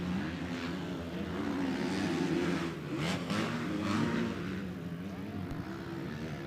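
A KTM Australia 250cc four-stroke motocross motorcycle engine revs in a steady, loud drone at a junior race, rising and falling as the rider blips the throttle in midair.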